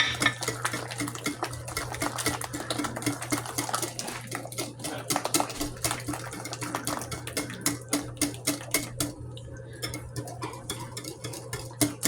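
A whisk stirs boxed French vanilla lemon cake batter in a bowl, a steady rhythmic scraping and clinking against the sides that continues alone throughout, fairly close, with a low steady hum underneath.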